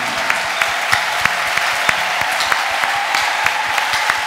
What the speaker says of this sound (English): Let us stand up and clap.